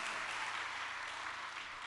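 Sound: church congregation applause

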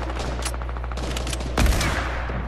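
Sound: sniper rifle shot in a video game (Fortnite)

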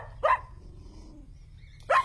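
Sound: puppy barking

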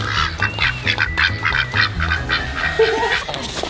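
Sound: voice imitating duck quacks

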